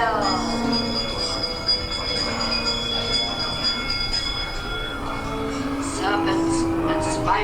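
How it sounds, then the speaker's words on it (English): A bell rings amid the rumbling ambience of the Haunted Mansion ride at Disneyland's New Orleans Square, with sustained tones and a spoken voice over the ride noise. "Give us a hint by ringing the bell."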